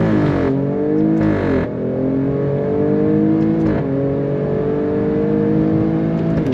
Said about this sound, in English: let's go from a dead stop again. On throttle, here we go